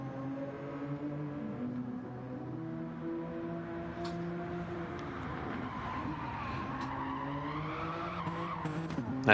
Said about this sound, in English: Those cars so sound like they're spinning up the inside wheels on those, on the drive.